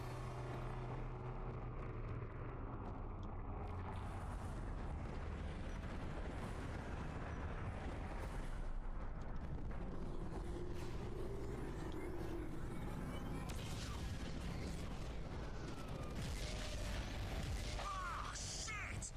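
Heavy cannon fire and explosions rumble through a Crysis battle, dense low booms and blasts layered continuously with mechanical clatter, loud and close, with scattered crackling bursts rather than clean separate shots.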